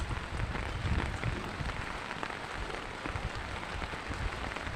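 Steady rain patters densely on a rooftop garden and its orchid leaves, a continuous close hiss of drops with no voices.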